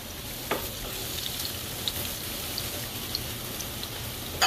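Food sizzles steadily in a frying pan, seasoned with paprika and parsley while salmon cakes cook nearby, with a few light clicks from stirring over a constant crackling hiss.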